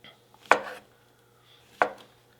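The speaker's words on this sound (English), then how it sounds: "you want to make sure that you're cutting the mushrooms almost evenly across" Two sharp knife chops slice mushrooms into quarter-inch pieces on a cutting board, spaced about a second apart, close and clean against a quiet kitchen background.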